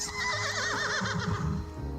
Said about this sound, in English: filling your ears with clanging steel and the neighing of horses